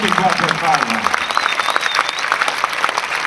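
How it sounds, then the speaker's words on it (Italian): An audience at an outdoor jazz concert at the Basilica di Collemaggio in L'Aquila applauds loudly, dense clapping throughout with a voice speaking over it and a faint whistle-like tone above. "per favore fatevi un applauso"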